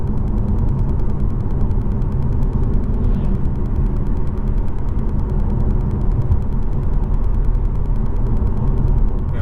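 A Jaguar XE 2.0D R-Sport diesel car builds speed on a rural road, its engine a steady low drone with continuous road rumble inside the cabin, loud and unbroken, with no talking.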